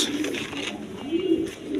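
Gola giribaz pigeons coo close by in low throaty rolls, a couple of short calls over a faint hiss of background noise.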